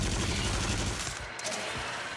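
Dense, continuous burst of game gunfire, loud and sustained like a fusillade, with rumbling low end and crackling high texture filling the whole stretch.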